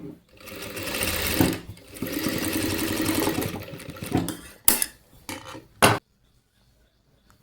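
A sewing machine runs a steady stitch along the last edge of a blouse piece for a few seconds, then stops, followed by short bursts and clicks before falling silent.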